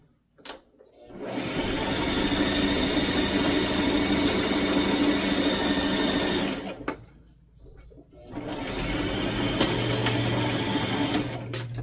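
A sewing machine runs in a long steady whirring burst while stitching and back-stitching fabric, stops briefly, then starts again loud and close.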